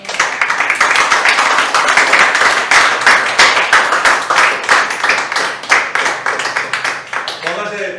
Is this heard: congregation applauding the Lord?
yes